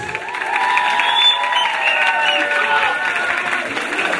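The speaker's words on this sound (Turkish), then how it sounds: "Hüseyin kardeşime güçlü bir alkış." Applause and cheering from guests at a Frankfurt halay party, a brief swell of clapping and whoops mixed with music and a voice over the loudspeakers.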